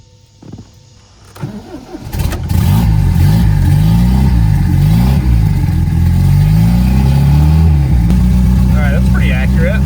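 An MGB fitted with a boost setup cranks briefly, then catches and settles into a loud, steady engine idle with a rough throb that continues alone to the end.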